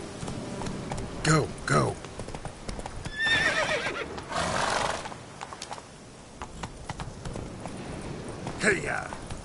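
Roach the horse in The Witcher 3 gallops with rapid clip-clop hoofbeats and lets out several loud whinnies, while a voice calls out over the action.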